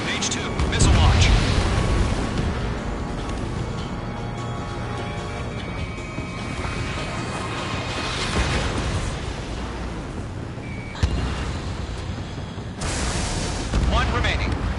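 Missile launch and explosions in the jet combat game Ace Combat 7: a continuous loud roaring rumble with booming bursts and a sharp pop near the end, under game radio chatter.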